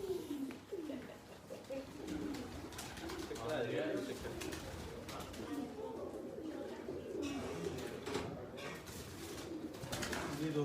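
Salara Teddy pigeons at home cooing softly in repeated low rolling coos, with other bird calls and a busy, noisy background around them.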